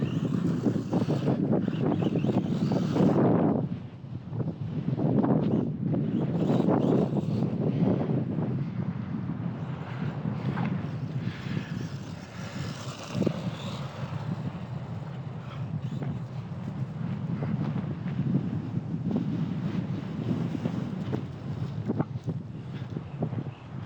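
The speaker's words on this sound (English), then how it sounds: "Man, this wind is something else." Strong outdoor wind roars steadily across the microphone, a loud continuous buffeting rush with gusts rising and falling throughout and no speech.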